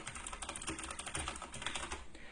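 Keys on an RGB computer keyboard are pressed in rapid, continuous typing, producing dense, faint clicks close to the microphone with no voices.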